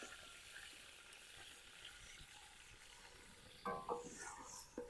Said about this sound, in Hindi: घी हमारा गर्म हो चुका है और अब कढ़ाई में डालते हैं प्याज।